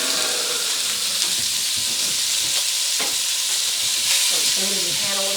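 Torn-up sausage frying in a pan, a loud, dense sizzle running without pause with occasional scraping stirs and utensil knocks, close by.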